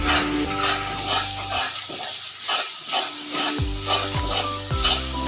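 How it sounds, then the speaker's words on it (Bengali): Ground spices (turmeric, salt, red chilli powder) frying in a pan while being stirred, a close steady sizzle broken by repeated scraping strokes, with no talking. "তিন 4 মিনিট মশলাটা কষিয়ে নিয়েছি"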